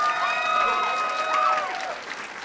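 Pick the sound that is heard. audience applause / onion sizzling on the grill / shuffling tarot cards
audience applause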